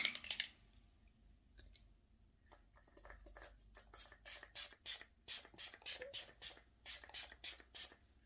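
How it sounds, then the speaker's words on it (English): Makeup setting spray (Iconic Prep Set and Glow) misted from a pump bottle: a quick series of short, close hissing bursts in an irregular rhythm, preceded by a few faint clicks and handling sounds. "oh, let's do some setting spray"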